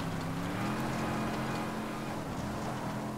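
A vehicle engine drones steadily while driving in Ghost Recon Wildlands, a continuous low hum with no break and no talking over it.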